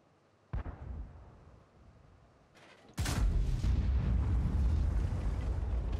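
A tank gun firing in an online tank battle game: a sharp report near 0.5 s, then a much louder blast at 3 s that rolls into a sustained, booming rumble to the end.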